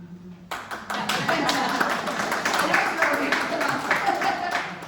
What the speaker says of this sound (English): And it's just worth an applause in itself.